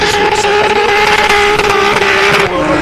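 A drift car engine screams at full throttle during a British Drift Championship round at Teesside, loud and close, with a steady high whine and rough, constant roar throughout.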